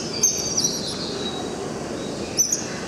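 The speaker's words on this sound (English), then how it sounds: "They hear birds." Birds chirp in short, high bursts, a few calls early and another pair near the end, over a low steady outdoor hum.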